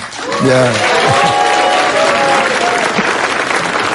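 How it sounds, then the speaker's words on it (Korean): A studio audience at a live political talk show taping applauds loudly and steadily, with voices talking over the clapping throughout. "막 박수 치지 마시고요"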